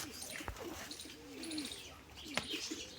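Faint, low pigeon cooing rises and falls against a soft background hum. No one speaks.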